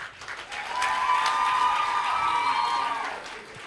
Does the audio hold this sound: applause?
yes